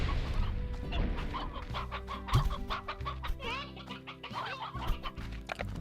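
Chickens in the video game Slime Rancher cluck busily and close by in a dense run of short, choppy calls, with a few longer squawks in between, set against a low background hum.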